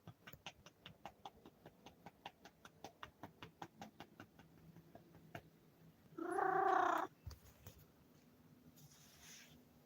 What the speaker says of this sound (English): Yep, definitely a woodshop kitty.